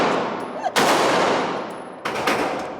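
Two sharp, loud gunshots from a first-time shooter at an outdoor range, the first near 0.8 seconds and the second near 2 seconds, each followed by a long ringing decay that fills the space between them.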